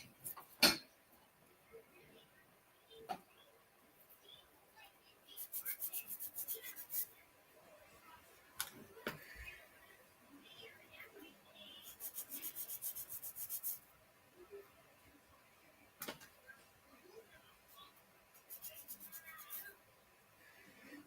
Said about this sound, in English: Let me sand these pieces here.